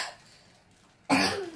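A child gives one short, sharp cough close to the microphone after a quiet stretch with faint background noise.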